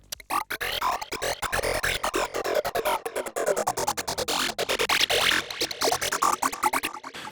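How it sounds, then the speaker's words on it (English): A bright psytrance synth lead made in Pigments, rippling through fast arpeggiated patterns, dense and continuous with sharp rhythmic pulses, no voices. "It's an arpeggiated lead, which sounds like this."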